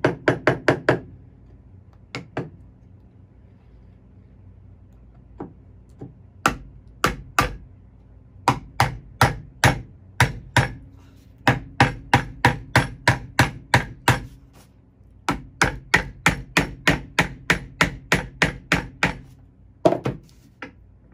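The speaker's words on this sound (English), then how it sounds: "now I can go ahead and drive those nails home" A hammer drives nails into wood while building a robin platform shelter, with sharp, close knocks arriving in fast, irregular bursts and brief pauses between runs of blows.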